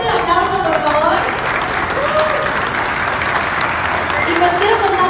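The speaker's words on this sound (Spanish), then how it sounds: "Fuerte el aplauso, por favor." An audience at a seminar applauds invited guests as they come forward, giving loud, continuous clapping throughout with a few cheers mixed in.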